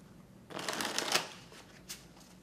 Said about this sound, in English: We're going to go ahead and take them and shuffle them.